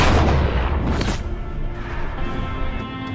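A gunshot in a film scene of a hired killer breaking into a house, a loud heavy boom with a long rumbling tail that fades over a few seconds, no talk.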